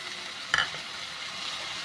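Ginger-mustard paste with green chilli and turmeric tipped into a cauliflower curry, one brief hiss and clatter near the start settling into a soft, steady simmering sizzle.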